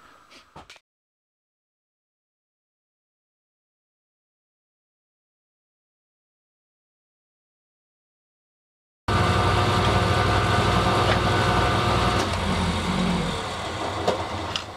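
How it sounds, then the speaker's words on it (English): A small lathe cleans up parts from a hundred-year-old water pump, running with a steady loud mechanical hum and rattle. It starts abruptly after a long silence and continues close and even to the end. "we're going to just take these over to the small lathe and clean them up"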